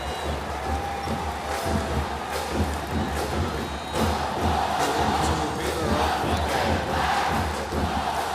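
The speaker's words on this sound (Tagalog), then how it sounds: "loud and proud, cheering on here inside the Mall of Asia Arena" Basketball crowd at Mall of Asia Arena during a men's finals game, San Beda's red and white supporters cheering loudly and steadily throughout, with swelling roars and chants filling the arena.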